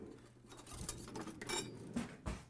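A whisk stirs granulated garlic into a bowl of flour, giving a few soft, uneven scraping and tapping strokes, close and quiet, with short pauses between bursts.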